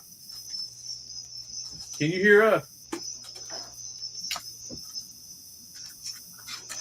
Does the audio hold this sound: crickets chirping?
yes